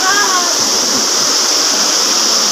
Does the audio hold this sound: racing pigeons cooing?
no